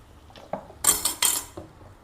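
Avial with curry leaves and coconut oil gets mixed in a pot: a few close metallic scrapes and clanks of a spoon against the vessel, short bursts over about two seconds, no speech.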